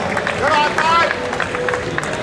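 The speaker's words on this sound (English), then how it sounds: "Give him a round of applause" Crowd at a powerlifting bench press competition applauding and cheering a lifter, with loud continuous clapping and some raised voices and whistles throughout.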